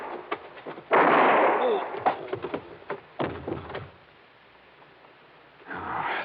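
A gunshot sound effect in an old radio drama crime episode: a sharp burst cracks out near the start, followed by clattering thuds and scuffles, with a muffled, band-limited broadcast quality throughout.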